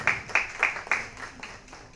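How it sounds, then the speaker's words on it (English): A small audience at a healthcare innovation talk claps for a speaker, giving about six crisp, evenly spaced claps that grow fainter toward the end, with nothing else heard. "Let's have a big round of applause for Dr. Yasir."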